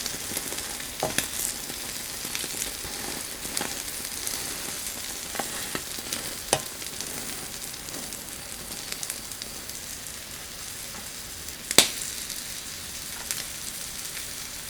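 Shrimp and enoki mushrooms frying in a pan, a steady crackling sizzle with occasional sharper pops and spatters, close and even throughout, no voices.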